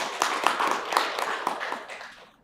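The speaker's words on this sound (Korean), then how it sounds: "우리 크게 박수하죠" A congregation bursts into loud, sustained applause during a Sunday church service, dense clapping with sharper individual claps standing out, fading away toward the end.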